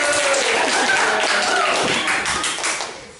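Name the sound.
classroom children clapping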